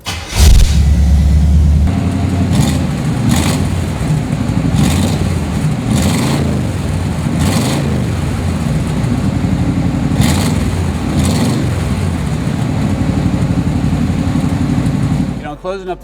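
A 1951 Willys Jeep 4X4 engine cranks and fires right away, then settles into a loud, steady idle nearby with a regular lopey pulse, before cutting off abruptly at the end.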